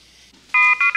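Telephone giving short, bright electronic ring bursts, three quick tones in a row after near silence, loud and close.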